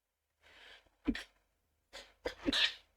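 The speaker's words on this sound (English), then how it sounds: "had to sneeze there" Close by, a person draws quick breaths and then sneezes sharply, with a second burst following; no speech.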